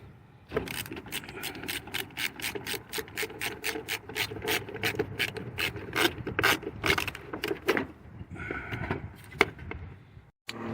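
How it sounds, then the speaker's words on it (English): A 1/4 inch ratchet loosening a battery terminal on a 2004 Chevy 1500 pickup, giving a long run of rapid, even clicks close by that slow and stop near the end. "A little 1/4 inch ratchet for this."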